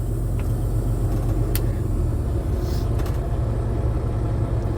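A loaded big rig truck in a farming video game pulls away in low gear, a steady loud diesel rumble that holds evenly throughout, with a few faint clicks on top.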